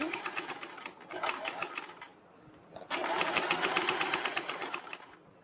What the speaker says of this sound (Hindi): इसी तरह से तो हम दूसरी साइड की पट्टी पर भी सिलाई लगाएंगे।